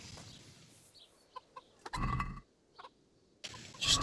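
Chickens cluck in a coop in the medieval game Kingdom Come: Deliverance, with a few short clucks and scattered small knocks against a quiet background, soft and close.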